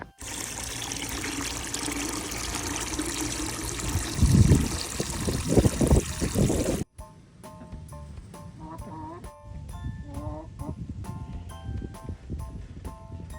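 Water trickles and splashes steadily while chickens' drinking water is being prepared, loud and close, then cuts off abruptly into a quieter indoor scene with faint tones.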